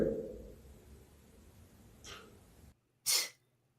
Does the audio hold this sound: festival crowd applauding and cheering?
no